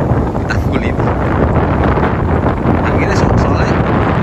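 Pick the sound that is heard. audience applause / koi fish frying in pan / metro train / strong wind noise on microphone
strong wind noise on microphone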